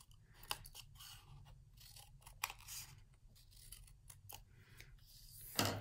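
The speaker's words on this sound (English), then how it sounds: "we're going to cut two triangles out from it" Scissors cut triangles out of paper in a quiet room, with faint repeated snips and scraping rubs at an uneven pace and a slightly sharper crunch at the end; no one speaks.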